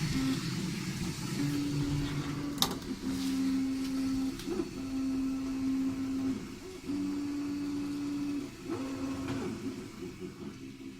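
An Anet A8 3D printer runs inside a closed Ikea Lack table enclosure, its stepper motors whining in steady sustained tones that stop and restart in bursts, muffled and moderately quiet, with one sharp click partway through.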